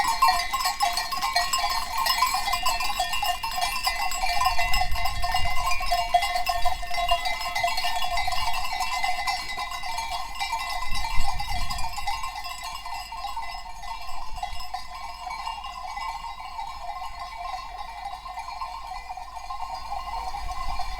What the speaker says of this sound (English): I can hear the goats.